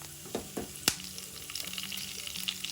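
Curry leaves dropped into hot oil for tomato pulihora, a few crackling pops and one sharp spatter burst early on, then a continuous close frying sizzle with light stirring scrapes.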